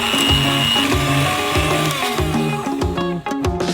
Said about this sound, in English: Add 2 tablespoons of sugar to them, and beat them well with a mixer.